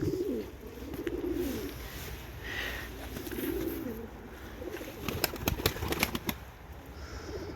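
A runaway tumbler pigeon cooing in soft repeated phrases near a coop, followed by a burst of sharp wing claps and flapping close by.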